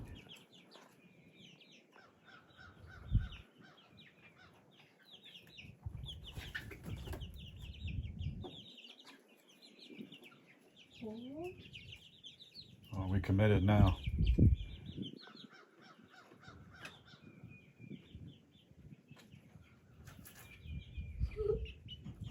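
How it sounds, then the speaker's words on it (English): Chickens being let out of their coop onto a composite deck, clucking and a rooster calling intermittently with a few wing flaps, fairly close, while someone talks over them. "Get out here, you chickens."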